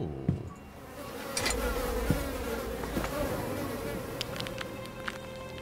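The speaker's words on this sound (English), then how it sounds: "Not the bees!" Bees buzzing in the video game ELEX, a steady droning hum with a constant low pitch, close and loud, with a few faint clicks over it.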